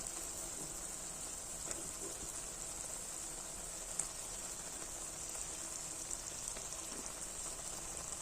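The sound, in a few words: fish pieces frying in pan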